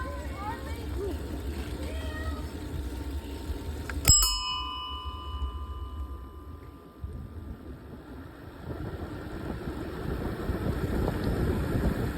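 A bicycle bell made in the Netherlands rings once, a sharp bright ding on a summer ride along a park loop road, with a person speaking just before and quiet riding noise after.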